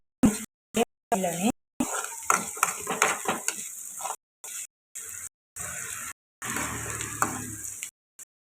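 Onions with green chillies fry in a pan for chicken curry, a close hissing sizzle in short bursts broken by silent gaps, with spoon scrapes against the pan and a voice talking over parts of it.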